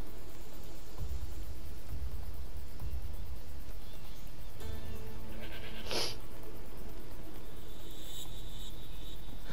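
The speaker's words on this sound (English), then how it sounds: "Hello, Mr. Goat." A goat bleats in the video game Assassin's Creed Odyssey, one short bleat standing out over a constant background of outdoor ambience and insect chirring.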